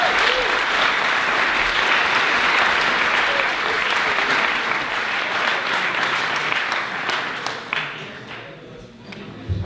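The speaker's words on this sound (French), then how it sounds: "Un tonnerre d'applaudissements pour Henri" A conference audience gives a warm round of applause for a guest speaker, a full, even wash of many hands clapping that holds for several seconds, then thins into scattered claps as it fades.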